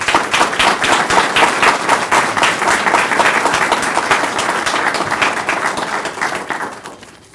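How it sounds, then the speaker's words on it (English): A lecture audience applauds loudly and continuously with dense, even clapping for about six seconds, then the applause tapers off and fades near the end, with no talk over it. "When I heard the applause that you got when you got up"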